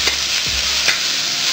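Onion and bell pepper are stirred in a hot pan over high flame, giving a continuous loud sizzle with a couple of quick spatula scrapes, close up and free of speech.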